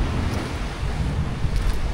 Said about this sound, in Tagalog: sobrang lakas na ng hampas ng alon